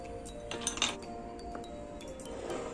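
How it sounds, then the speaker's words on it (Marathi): Ice cubes drop into a glass of raw mango drink made with mango pulp, giving several sharp glassy clinks, a cluster near the middle and lighter taps after, close and clear over a quiet room. "आणि त्याच्यामध्ये बर्फाचा तुकडा घालून घेऊ."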